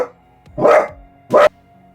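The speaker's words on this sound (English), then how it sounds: "The one time I need him to bark." A dog barks twice, close and loud, with two separate sharp barks about half a second apart and quiet between them.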